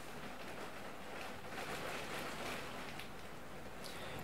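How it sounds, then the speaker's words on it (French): Heavy rain falls in a steady, dense hiss throughout, a continuous downpour in a place where it rains constantly, with no voices over it. "Il pleut beaucoup."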